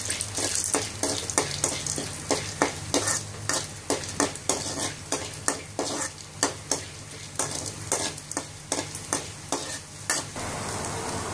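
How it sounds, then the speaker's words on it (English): Chana dal and other ingredients frying in hot oil in a pan for stuffed brinjal, a steady sizzle with a regular rhythm of spoon strokes scraping and clinking against the pan, close and clear. "We're going to fry all the ingredients."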